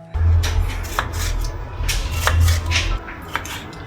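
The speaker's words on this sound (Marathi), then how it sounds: "ताईने कांदे कापायला घेतलेत." Onions being cut with a knife in a home kitchen while making butter chicken: repeated close knife strikes on a board in an irregular rhythm over a steady low hum, with no talk.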